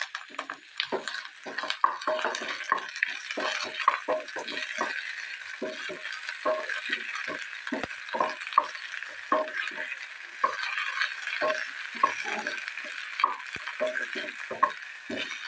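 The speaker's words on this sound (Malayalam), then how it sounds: "കാൽ കിലോ വെണ്ടയ്ക്ക കട്ട് ചെയ്ത് ഇതുപോലെ വഴറ്റിയെടുക്കാം." Chopped okra, about a quarter kilo, sautéed in a pan, with a soft sizzle under repeated light scraping and clinking strokes of a spoon at an uneven rhythm, close and fairly quiet throughout.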